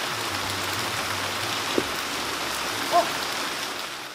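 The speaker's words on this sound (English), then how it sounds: "So it's off into the torrential downpour." Torrential rain pours down during a tropical storm, a dense, steady hiss of drops hitting surfaces that fills the whole stretch with no break, with a couple of brief louder splashes and a faint low rumble underneath.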